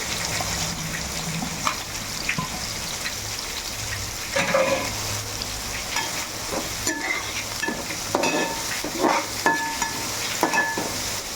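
Onion pieces fry and sizzle in oil in a large pot for about two kilos of chicken curry, a steady sizzle with scraping stirs and clattering utensil knocks rising through the middle, no talk.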